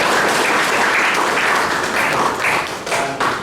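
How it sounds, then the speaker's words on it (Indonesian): A workshop audience applauds, with dense, loud, sustained clapping from a crowd filling the room, swelling slightly in waves throughout. "aplaus buat kita semua"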